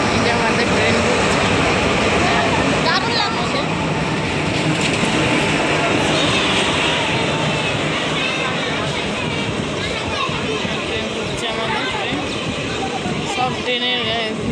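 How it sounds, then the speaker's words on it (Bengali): A train bound for Salboni pulls into a station with a steady, continuous rumble and rail noise throughout, under chattering voices of a crowd on the platform. "এই দেখুন আমাদের ট্রেন ঢুকছে, শালবনী যাওয়ার ট্রেন"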